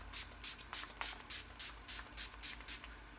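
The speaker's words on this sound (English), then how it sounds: "And I spray my face with the Wet n Wild Finny Matte." A series of quick, soft spray bursts from a bottle of Wet n Wild setting spray misted onto a face, about a dozen pumps in a steady rhythm, close and fairly quiet.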